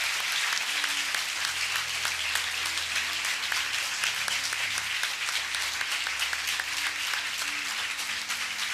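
A congregation claps loudly and continuously at a Pentecost church service, a thick, unbroken roar of many hands sustained for several seconds, with low sustained musical tones underneath.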